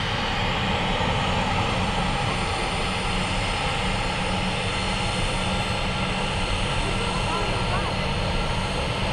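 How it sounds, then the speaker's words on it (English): Aircraft taxiing at Manchester Airport, a continuous broadband jet engine roar held at a steady level from a moderate distance, with no speech. "Quite a few aircraft taxiing out now, though."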